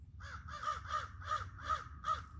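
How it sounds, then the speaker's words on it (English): A crow caws six times in a quick, even series, harsh and fairly close, over a faint low background rumble. "Those birds sure are noisy, aren't they?"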